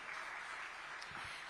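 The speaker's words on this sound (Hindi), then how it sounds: "इसीलिए एक बार जोर से तालियां बजा दीजिए।" Faint, distant applause from an audience at a Hindi-language interview event, a brief, continuous patter of many hands clapping at low volume.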